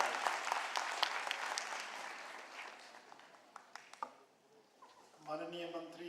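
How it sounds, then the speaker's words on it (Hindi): An audience at a state-level workshop for National Girl Child Day in Patna applauds steadily, the clapping thinning out into a few scattered claps before a voice begins speaking. "जोरदार ताली।"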